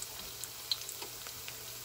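Garlic sautés in a pan for pork igado, making a faint, close crackle with scattered small pops and ticks over a quiet background.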